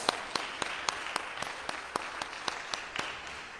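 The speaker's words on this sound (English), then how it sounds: "Let's give him another round of applause." Applause from a church congregation at a First Baptist Church service, heard as a series of sharp, evenly spaced claps standing out against a soft crowd background, fairly distant and moderate in level.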